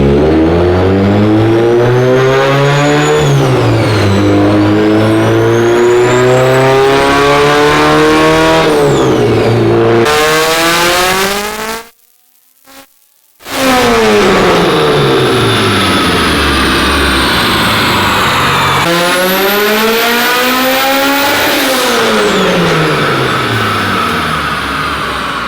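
A Mitsubishi Lancer Evo 8 making high power on a chassis dyno screams through long rising wide-open pulls, loud and close, with a brief cut to near silence midway before another climbing rev.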